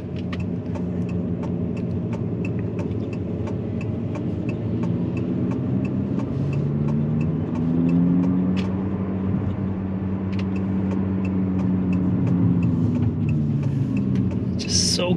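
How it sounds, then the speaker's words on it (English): An Abarth 500e electric car, a 114 kW hatchback, plays a simulated exhaust note while driving and slowing, giving a steady low rumble with rising and falling tones heard from inside the cabin. "When it's slowing down, it's actually got a little bit exhaust sound."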